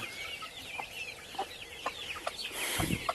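Chickens, chicks and larger hens together, give a run of soft clucks and chirps close by, with scattered louder calls and a busier burst of clucking near the end.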